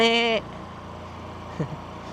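A single loud goat bleat with a strained, buzzing tone opens the clip and breaks off quickly. Quiet outdoor ambience and a faint thump follow.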